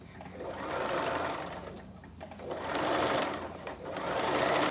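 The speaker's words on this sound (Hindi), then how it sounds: "अब हम इसे खोल करके इस पे गुम सिलाई लगा लेंगे।" A sewing machine runs steadily at close range while stitching a blouse, its whirring hum surging and easing in a few long bursts with no voices over it.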